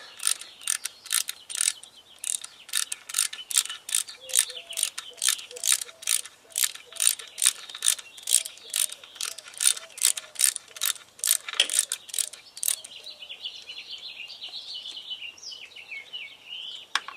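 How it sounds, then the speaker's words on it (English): Quick, evenly spaced metallic clicks from a ratchet loosening an 8mm bolt on a motorcycle cylinder during an engine rebuild, continuing for about twelve seconds before easing into lighter scraping and handling sounds. "there's just one 8mm bolt. So we're gonna pull that off."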